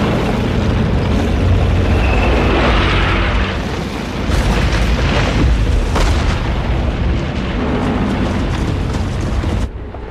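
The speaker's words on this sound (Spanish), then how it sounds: "con lanzacohetes llamados los órganos de Stalin." A wartime Katyusha rocket launcher barrage, the so-called Stalin's organs, roars as a continuous loud wall of booming explosions and rumbling blasts for about ten seconds before cutting off abruptly.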